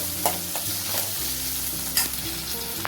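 Onions fry and sizzle in a pan on the stove as a spoon stirs them, a steady close crackle broken by a few scraping strokes, with no voices.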